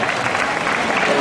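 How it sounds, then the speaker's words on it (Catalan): Loud, close applause from a gathered crowd in a town square at a giants dance festival in Mataró, greeting the Bisbalet d'Igualada dancers; dense continuous clapping with no pause. "Un fort aplaudiment per la gent del Bisbalet d'Igualada"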